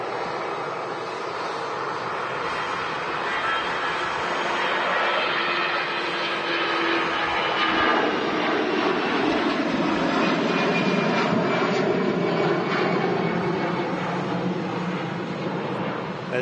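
An EasyJet jet airliner departing Manchester Airport, its engine roar swelling and holding steady as it climbs away, heard from a distance with wind noise and no talking.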